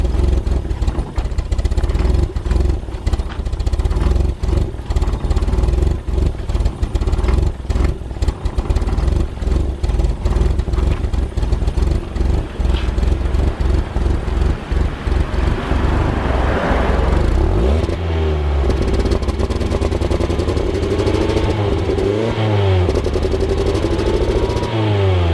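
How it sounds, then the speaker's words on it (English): A 2013 Ford Fiesta engine cranks, catches and idles with loud, steady rumble, then revs up and down in several rising and falling surges near the exhaust during an oil change and Seafoam treatment. "Start the car up and see what kind of smoke we get."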